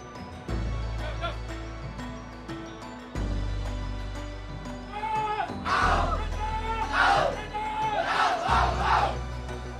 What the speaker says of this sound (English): Okay, nak dengar cheer sikit dari Red Giants?